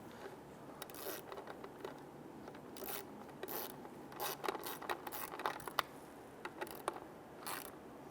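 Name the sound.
tightening fuel pump bolts with a ratchet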